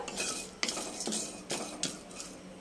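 Whole spices for egg biryani rattle and scrape against a dry metal pan as they are dry-roasted and stirred, with repeated clinks of a utensil at an uneven rhythm, close up.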